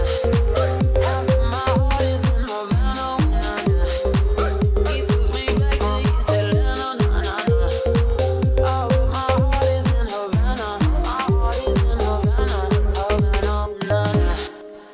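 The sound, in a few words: Remix drop with M1 organ, bass and drums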